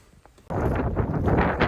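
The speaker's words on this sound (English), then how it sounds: "it's pretty windy outside." After a quiet half second, a strong gust of wind in Sweden suddenly hits the microphone and keeps roaring in loud, uneven buffets.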